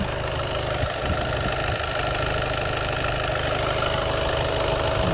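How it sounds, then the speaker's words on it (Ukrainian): A Volkswagen Golf 7 1.6 TDI diesel with a manual gearbox idles steadily, a constant mid-low clatter with a fine knocking texture heard up close and alone. "Чуєте, як працює двигун"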